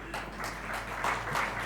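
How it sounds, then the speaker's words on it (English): Modest audience applause at an evening conference session on globalising higher education, a thin scattered patter of hands over a low steady room hum, brief and fairly subdued. "Let's have a round of applause for Raghu Sundaram."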